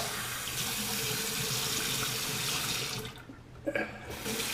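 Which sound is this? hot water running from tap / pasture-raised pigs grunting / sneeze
hot water running from tap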